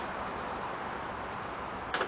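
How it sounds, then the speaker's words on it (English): A home-made powder coat oven's alarm beeps after baking, a short series of four quick electronic beeps over a steady background hum, followed by a brief click. "Well, alarm is going off."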